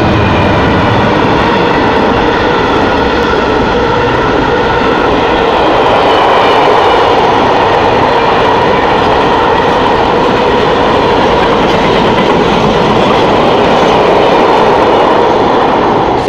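Class 66 diesel freight locomotive 66138 passing through Welwyn Garden City station, a loud, steady roar of engine and rolling wagons that holds close and constant throughout with no voices.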